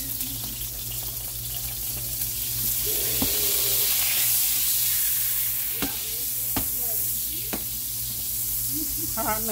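Steaks searing in a skillet on medium-high heat, a continuous hissing sizzle with a few sharp pops and light clinks, mostly unaccompanied by talk.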